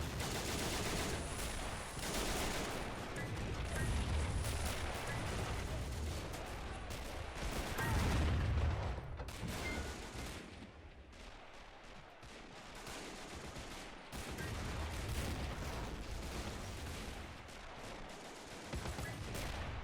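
A large World War One field battle in Men of War: Assault Squad, with tanks, artillery and infantry. Continuous loud rifle and machine-gun fire crackles throughout, broken by heavy booming artillery blasts in a dense, unbroken wall of combat noise.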